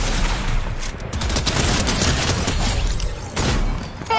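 Gunfire bursts in the Apex Legends video game, dense rapid shots and booming impacts packed together loudly for several seconds, with a brief lull before another burst near the end.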